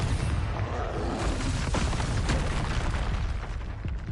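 Confringo fire-spell blasts in the game Hogwarts Legacy land as heavy, rumbling booms rolling into one another, loud and sustained across the stretch with no clear gaps.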